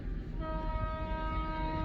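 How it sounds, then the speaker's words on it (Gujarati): A passenger train pulling away sounds a long, steady horn blast that holds throughout over a low rumble of the moving cars, heard from close by at trackside. "આ ટ્રેન હવે ઉપડી ગઈ."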